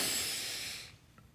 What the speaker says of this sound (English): It's a double inhalation